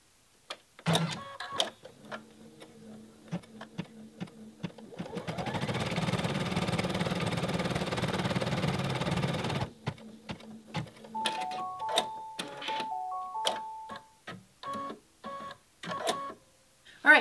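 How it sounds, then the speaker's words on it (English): An embroidery machine stitches out an applique placement outline for a snap pouch, starting with short clicks and whirs, then a steady, fairly loud mechanical run for several seconds before returning to intermittent clicking, stepping motor tones and short stitch bursts. "So now we are ready to lower the presser foot and start stitching out our design."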